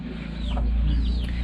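Hens in a backyard chicken coop on a warm day, giving soft, repeated clucks and murmurs close by over a steady low background hum, with no speech.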